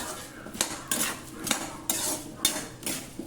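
A spoon stirs onion and garlic frying in a pan, making about six rhythmic metallic scrapes and knocks against the pan close up, with a faint sizzle underneath.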